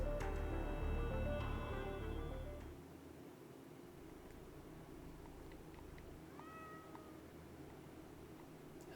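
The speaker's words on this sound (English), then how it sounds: "After Horse leaves, Yuri gathers all 5 cats to her, briskly petting the furry little creatures while maintaining a serious expression." Several cats meow in the game Punishing: Gray Raven, with a few soft, short mews rising over a steady low ambient hum and music; after the first couple of seconds the background drops a little. Nobody speaks.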